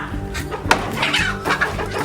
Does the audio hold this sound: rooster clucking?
yes